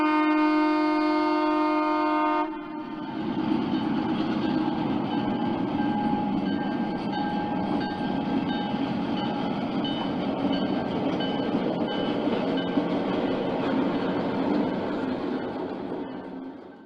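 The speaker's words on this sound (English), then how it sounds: "The pooled powered consist is removed from the train and heads to servicing." A coal train hauled by a pooled powered consist in a train simulator game: a brief steady horn-like tone opens, then a continuous loud rolling rumble of rail cars carries on evenly to the end.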